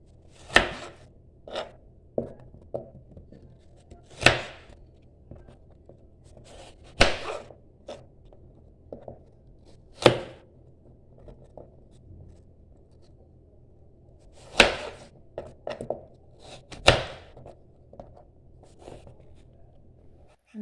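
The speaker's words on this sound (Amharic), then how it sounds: "ካሮትም ደግሞ 4 ቦታ ነው የምከትፈው።" Carrots chopped with a knife on a board, producing sharp, isolated knocks spaced a second or more apart with some quick double strikes, close and clear against near silence.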